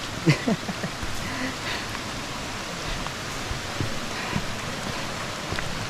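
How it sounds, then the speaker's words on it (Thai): Steady rushing water from a forest waterfall at Namtok Salatdai in Nakhon Nayok, heard while walking past on the trail, a continuous broadband wash with a few brief knocks near the start. "แค่เดินผ่านน้ำตก"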